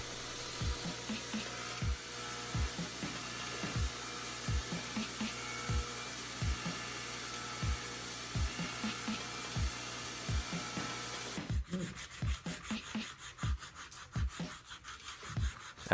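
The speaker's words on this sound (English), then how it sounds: "here I'm grinding off the inside corner of the grip so that it can accommodate that extra" A power tool grinds the inside corner of a wooden sword grip, rasping in repeated strokes with a roughly regular beat at low level, then turning thinner and more scratchy toward the end.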